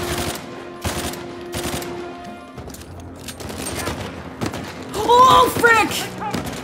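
Rapid bursts of blind-fire gunshots ring out in Uncharted 4, a few quick volleys followed by scattered shots and thuds, with a man exclaiming near the end.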